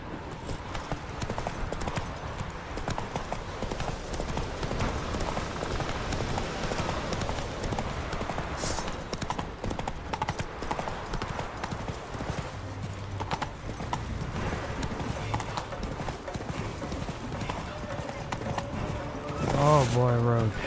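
The horse Roach trots in the video game The Witcher 3: Wild Hunt, a steady, rhythmic clip-clop of hooves that runs throughout under game music and a player talking.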